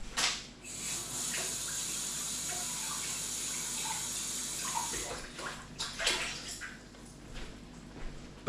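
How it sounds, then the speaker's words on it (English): A kitchen sink tap runs water into a jug for about 200 ml, a steady hissing pour close by with a few splashy surges and gurgles near the end before it stops. "go over to the sink and put around about 200 ml of water in"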